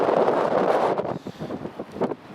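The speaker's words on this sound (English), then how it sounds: "Chris Kennedy, the wind sounds cool" Wind buffets a microphone outdoors beside Edinburgh Airport's Runway 24 on a chilly January day, a steady close rumble that eases and gusts in short pulses, with no voices.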